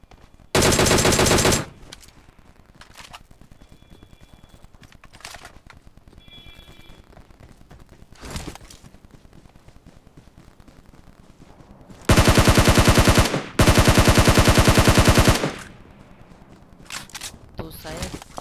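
Automatic gunfire in the Battlegrounds Mobile India video game, loud rapid bursts of several seconds separated by quieter stretches with a few single distant shots, on the Erangel map.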